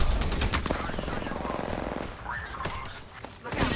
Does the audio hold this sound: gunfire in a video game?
yes